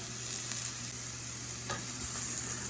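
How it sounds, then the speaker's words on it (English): Onions cooking on a Blackstone griddle, heard as a constant close hiss of frying with an occasional faint scrape across the flat steel surface and no talking. "We'll let these just continue to cook, looking for those onions to get a little translucent."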